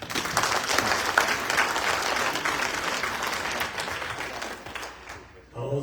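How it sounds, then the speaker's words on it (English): An audience at a public address applauds warmly, with steady dense clapping that holds for several seconds and then fades out abruptly. "Let's clap for him."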